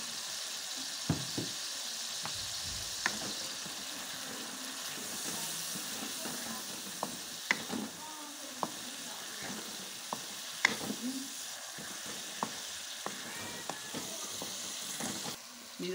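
Spice masala roasts in a pan for kofta, giving a soft continuous sizzle and hiss with scattered light scrapes and taps of a spoon stirring throughout.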